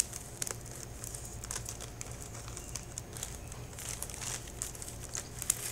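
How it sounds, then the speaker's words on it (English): Plastic bags being pressed and sealed give off a steady stream of close crinkling and crackling, with small irregular snaps and no voices. "so then we're gonna seal these plastic bags like really well"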